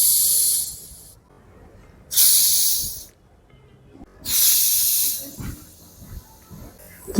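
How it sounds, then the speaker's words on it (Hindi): Three loud bursts of gas hissing out of a tightly pressurised bottle of fermented buttermilk sweetened with jaggery, each rush lasting about a second with quiet pauses between, close and clear. "तो इसकी पहले ना गैस रिलीज कर लेती हूँ"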